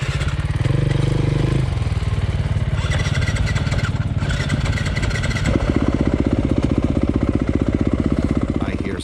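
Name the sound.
2021 Yamaha YZ250FX dirt bike engine hard starting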